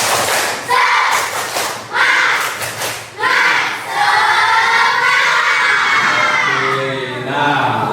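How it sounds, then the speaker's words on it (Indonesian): A classroom of students does a rhythmic spirit clap, loud, close group claps and thumps mixed with shouted chanting voices in several energetic bursts. "Satu kali lagi, tepuk semangat."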